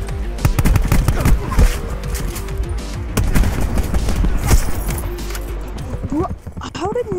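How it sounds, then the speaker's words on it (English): Gunfire in Black Ops 4 Gun Game, with repeated sharp shots and bursts crackling loudly through the whole stretch, over busy game noise and shouting players. "How did none of those shots hit?"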